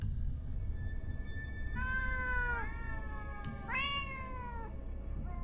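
A cat in the game Ghostwire Tokyo gives two clear drawn-out meows, one after the other with a short pause between, close and distinct over a quiet low background hum.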